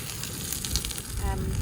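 Steady crackling sizzle of burgers frying in a titanium frying pan at a wild camp, close up, with a brief faint tonal whine near the end.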